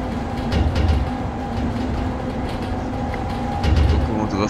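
ET-25 electric freight locomotive, a fully Polish-built PKP Cargo engine, running in the SimRail game on the Sosnowiec Dańdówka–Olkusz line: a steady cab rumble and hum with faint rhythmic rail clatter, continuous and fairly loud, with no talking.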